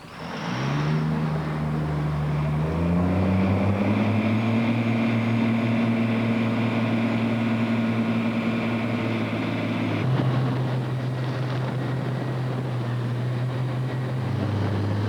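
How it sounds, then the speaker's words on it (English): A powerful high-speed police launch boat engine on a river drones steadily throughout, its pitch rising as it revs and then holding, loud and close with no talking. "They use this high-powered launch to provide a high-speed response to river-based emergencies."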